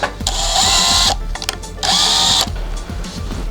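An electric screwdriver drives screws to fix wingtips onto a radio-controlled model jet, two loud sustained whirring bursts close by separated by short pauses and handling noise.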